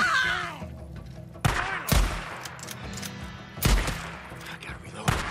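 Gunshots in the video game Days Gone: a few loud, sharp separate shots spaced over several seconds, with a player shouting and talking between them.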